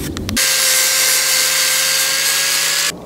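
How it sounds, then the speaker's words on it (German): An angle grinder grinds down a wooden plank for a Chevy C10 truck bed. A short burst of other noise comes first, then the grinder gives a loud, steady whine for about two and a half seconds before cutting out. "Ich schleife das einfach mit der Flex runter"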